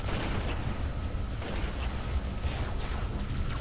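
Steady barrage of gunfire and booming blasts from jackal enemies during a firefight in the Halo 2 level Regret, loud and continuous with dense crackling bursts throughout.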